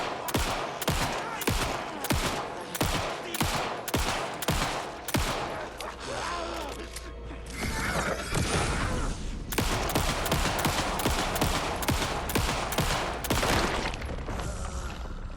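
Rapid, loud gunfire in the survival horror game Alan Wake 2, sharp repeated shots at a steady rhythm, a pause filled by heavy rumble and effects, then another long, fast volley of shots.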